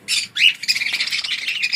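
Cockatiels and parrots at a bird shop in Pandharpur squawk loudly and close by, a rapid run of shrill, harsh calls with short gaps, with no talking over them.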